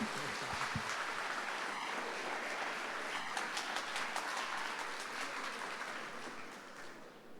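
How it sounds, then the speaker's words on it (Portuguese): A church congregation gives a round of applause, a soft, distant wash of clapping that holds steady and slowly fades toward the end. "Uma salva de palmas para os seus amigos"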